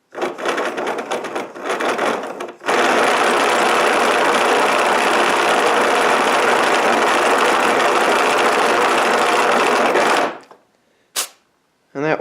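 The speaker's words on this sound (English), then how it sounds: "Hold up the pressure gauge, then plug it up with my thumb. And I can give it a good crank for you guys." A 12-volt motor is hand-cranked to build pressure. It gives a loud, continuous whirring buzz that holds steady for about eight seconds, then stops abruptly. Short bursts of handling noise come before and after.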